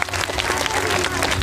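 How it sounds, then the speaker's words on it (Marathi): Audience applause at a kirtan gathering, a dense continuous wash of clapping from a crowd, close and loud throughout the brief moment. "त्यांच्यासाठी एकदा जोरदार टाळ्या वाजवा."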